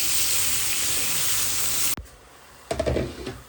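Eggplant fries with spices in a pan, giving a loud, steady sizzle for two seconds. It cuts off sharply, followed by quieter stirring and clattering sizzle.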